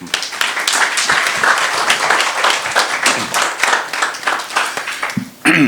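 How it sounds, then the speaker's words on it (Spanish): Loud audience applause for a speaker at a lecture on protecting vulnerable groups in family law, dense clapping from a crowd that continues throughout with a brief dip near the end. "Por favor, un aplauso al querido maestro."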